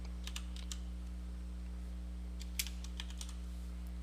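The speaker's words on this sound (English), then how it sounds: "We're just going to type in bronc clip art" Keys are typed on a computer keyboard to enter a web search, in two short clusters of light, quick clicks over a steady low hum, with no voices.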